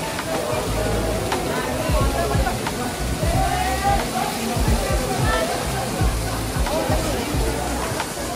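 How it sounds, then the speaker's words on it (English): Rushing waterfall in Himachal Pradesh, India, a continuous broadband roar heard close up, with people talking over it and occasional knocks and handling bumps. "This is the waterfall."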